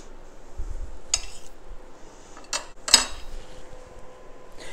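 A knife cuts a keto microwave blueberry muffin in half on a plate, giving a few sharp clinks and scrapes against the dish with quiet pauses between them.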